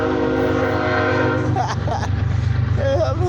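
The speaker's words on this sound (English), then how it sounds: "Train coming through. Watch the train." Passing train blasting a loud sustained horn up close, the horn cutting off midway as the rumbling train continues with rhythmic clatter and brief voices.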